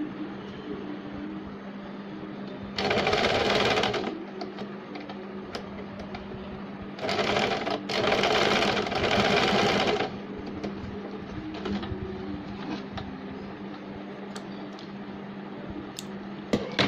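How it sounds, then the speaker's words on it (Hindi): A sewing machine stitching elastic onto a baby's capri pants, with two close, loud bursts of rapid whirring stitches separated by quieter handling pauses and a low steady hum beneath. "अब हम इसके एक साइड से इस तरह से यहाँ पे एक सिलाई लगाएंगे ताकि इलास्टिक अंदर ना जाए।"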